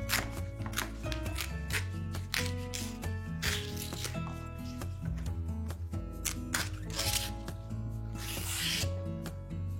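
Knife thinly slicing rolled turmeric leaves on a board, rapid close chopping strokes in quick irregular bursts with rubbing and rustling between cuts.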